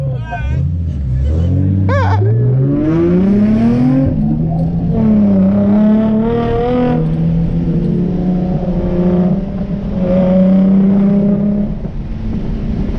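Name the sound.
Infiniti G35 with full bolt-ons cruising, engine sound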